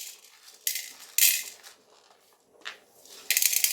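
Dry chana dal poured into an empty kadai, several bursts of hard grainy clatter and rattling separated by pauses, close and fairly loud, with no talk.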